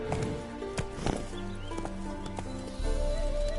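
The horse Roach in The Witcher video game, with hoofbeats clip-clopping in a quick, uneven rhythm and a possible snort or whinny, heard close and fairly quiet, followed by a low, steady rumble.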